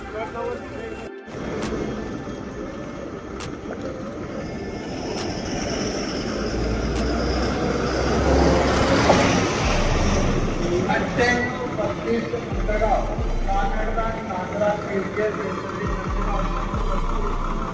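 Buses at Jalgaon bus station give a continuous low engine rumble that swells in the middle and rolls on steadily, with a busy crowd murmur around them.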